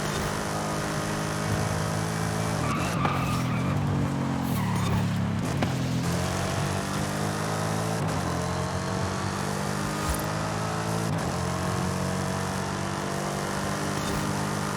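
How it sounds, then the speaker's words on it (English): Mustang racing across desert terrain in Forza Horizon 5, its engine droning steadily with rising and falling harmonic sweeps as it shifts, joined by brief tire scrubs, continuous and moderately loud throughout. "Just getting through the desert here in our Mustang."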